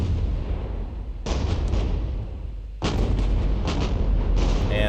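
WW2 warship naval guns firing in the game Warships Fleet Command, heavy booming blasts that roll on in loud, dense bursts, with two sharp fresh salvos standing out over a continuous thunderous rumble.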